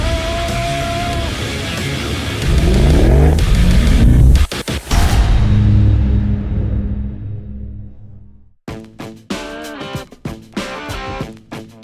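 An SUV engine revs hard and surges as it launches, a loud rising roar with sharp bursts before fading off; someone speaks briefly during the run.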